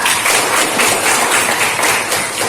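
Classroom applause for a student, a dense steady patter of many hands clapping together close by, filling the short stretch without pause.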